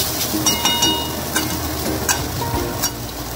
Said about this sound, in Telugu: ఉల్లిపాయలు ఇలాగా లైట్ బ్రౌనిష్ కలర్ వచ్చేంత వరకు వేయించాలి.